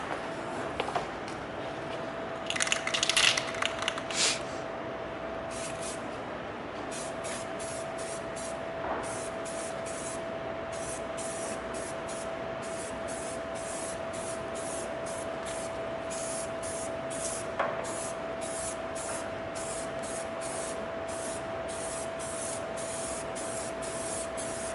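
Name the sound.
spray painting a forklift yellow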